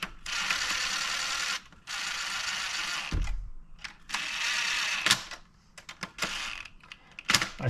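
Ratchet tightening the fuel pump nut on a Kia Sorento, rapid clicking bursts in several runs separated by short pauses, close and crisp, with no talk.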